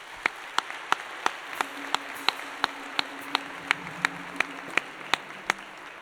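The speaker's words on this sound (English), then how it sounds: "we can give her a round of applause" At an Armed Forces Day music evening, the audience claps for a grade 11 learner in a slow, even rhythm, about three crisp claps per second, steady and moderately distant over a low hum.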